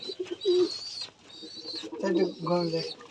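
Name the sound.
pigeons cooing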